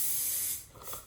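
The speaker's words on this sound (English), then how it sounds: "This is the only like aerosol kind of hairspray I can use around my daughter" Aerosol hairspray sprays in one steady, close hissing burst for about half a second, then tapers off with a fainter trailing hiss.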